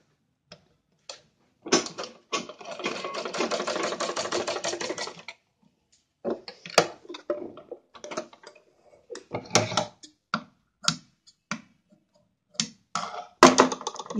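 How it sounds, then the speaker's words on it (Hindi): Sewing machine stitching the collar neck of a kurti, a close rapid mechanical run of ticking stitches for a few seconds, then scattered clicks and short bursts of stitching with quiet gaps between. "ये यहाँ पर हम सिलाई लगा लेंगे दोनों साइड ऐसे।"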